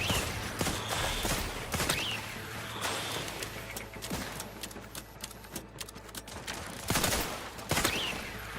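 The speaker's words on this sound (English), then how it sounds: "this is a fan fire revolver that shoots shotgun rounds essentially" In the video game Outer Worlds 2, a fan-fire revolver loaded with shotgun rounds blasts in quick, sharp shots. Impacts and clatter come between the shots, and a louder pair of blasts lands near the end.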